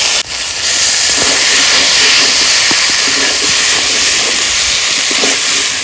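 Cauliflower pieces added to a pan of hot spiced oil with fried potatoes and ground chilli paste for a Bengali dish, giving a loud steady hiss and sizzle that runs throughout, with faint stirring clinks.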